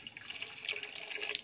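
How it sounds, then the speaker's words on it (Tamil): Water poured from a vessel into a pan of cooked masala for rice, a steady close splashing and trickling stream lasting the whole moment with no talk. "இப்போ தண்ணீர் 1 லிட்டர் ஊற்றணும்"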